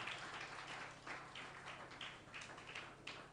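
A thin round of applause from an audience at an event organizers' conference in Abuja: a few scattered claps keep going at low volume, heard from a distance with no talk.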